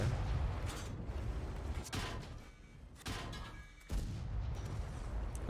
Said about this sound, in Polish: Light francuski wali mocno.